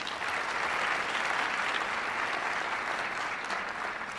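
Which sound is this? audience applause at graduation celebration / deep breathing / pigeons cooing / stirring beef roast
audience applause at graduation celebration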